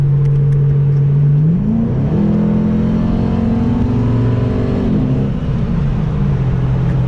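A Mustang GT driven in snow revs hard and accelerates, its loud, close engine note climbing in pitch, holding high, then easing back down while still droning steadily.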